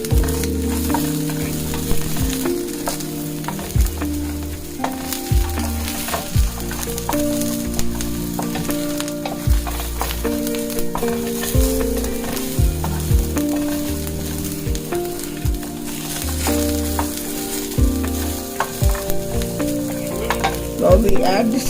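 Mangodi, dried lentil dumplings, roast in a pan with a steady close-up sizzle, broken by regular stirring scrapes and light crackles throughout.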